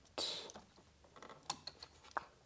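A 14mm hex steering wheel bolt on a Honda S2000 is worked loose with a ratchet, giving a few faint, close clicks and metallic ratcheting taps.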